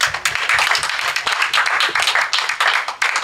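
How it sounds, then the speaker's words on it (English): Audience members at a 2017 political action committee candidate forum in Eugene clap loudly and steadily, a dense burst of nearby hand claps lasting a few seconds. "Round of applause for these folks."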